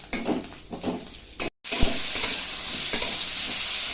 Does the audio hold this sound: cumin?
yes